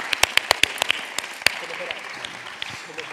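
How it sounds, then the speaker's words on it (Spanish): At a post-performance theatre talk, an audience applauds an actress: a run of sharp, close claps at the start, then scattered claps that thin out under a low room murmur. "yo quiero pedir un aplauso para Nerea Mazo"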